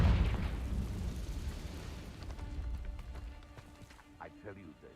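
A Confringo blasting spell explodes in Hogwarts Legacy, a loud booming burst at the start that decays into rumbling debris, followed by fainter crackles and a shouted voice.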